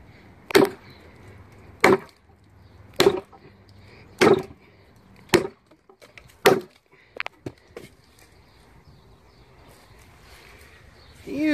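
A Tope Overkill Bowie knife chops into wood, with about six sharp, evenly spaced thwacks followed by a quicker cluster of lighter knocks, close and distinct against a quiet background.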